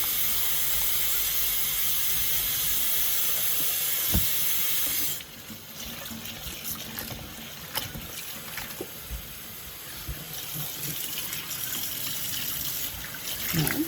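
A kitchen tap runs steadily into a sink while squid is rinsed, a loud rush that drops to quieter splashing and handling noises partway through.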